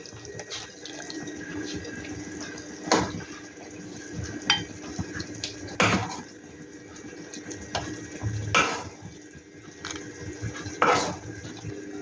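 Cauliflower manchurian gravy ladled into a bowl: a steady wet pouring and splashing with several sharp clinks of the ladle against the bowl, close and moderately loud, with no talking.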